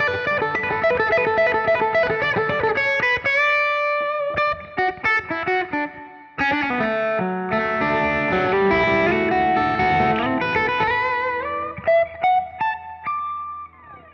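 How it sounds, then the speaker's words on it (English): Fender Acoustasonic guitar played with a fully overdriven tone and reverb, loud sustained distorted chords and melodic runs with short pauses and ringing tails, no speech. "now let's finally go to that fully overdriven guitar sound you heard in the loop as well"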